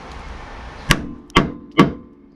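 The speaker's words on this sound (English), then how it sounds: "How about a little tap with a hammer?" Three sharp metallic hammer taps on a freshly welded steel body panel of a Rover P6 car, evenly spaced and close, each ringing briefly with no talk.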